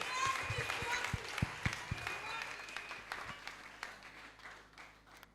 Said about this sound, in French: Acclamons très très fort le Tout-Puissant.